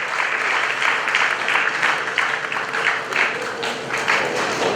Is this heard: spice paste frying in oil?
no